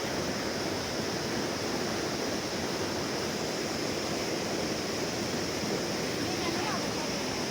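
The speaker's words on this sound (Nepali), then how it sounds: "खोला बढेर यत्रो छ" A swollen mountain river (khola) rushes past in full flood, making a steady, loud broadband roar of water that holds constant without pause.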